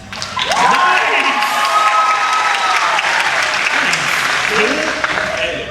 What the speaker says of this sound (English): They're going to applaud just for you, sir.